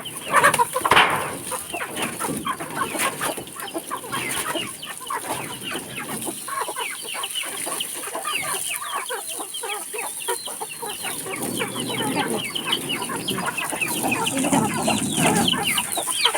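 A flock of farmyard chickens clucks continuously, many overlapping hens chattering at close range with a steady, busy rhythm throughout.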